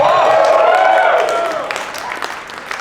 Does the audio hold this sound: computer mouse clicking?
no